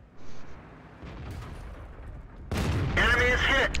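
The AMX 30 1er Prototype tank's cannon fires in World of Tanks with a sharp, loud blast, followed by a rumbling shot and impact after a quieter pause, with engine noise underneath.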